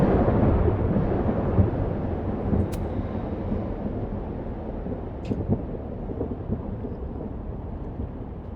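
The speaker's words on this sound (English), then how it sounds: "But you still hear the storm." A storm rumbles in the video game Life is Strange: Double Exposure, with continuous heavy rain and low rolling thunder filling the background, steady and fairly loud, broken by a couple of sharper cracks.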